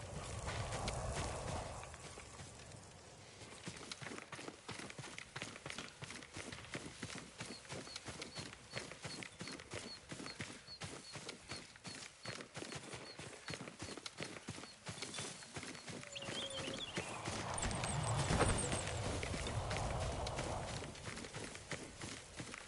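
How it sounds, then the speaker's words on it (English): A horse's hooves clip-clop steadily and rapidly in the samurai action game Ghost of Tsushima, a continuous close rhythm running for over twenty seconds with light ambient noise and no speech. "Yuriko's horse."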